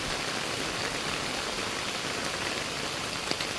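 Heavy rain pours steadily outdoors, a dense, even hiss of drops that stays loud and unbroken throughout, with no voices.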